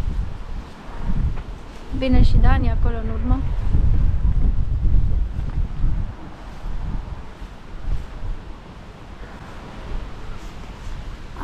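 Wind gusts over the Adriatic Sea at Split buffet the microphone in low rumbling surges, strongest early on and easing later, while a person talks briefly over it.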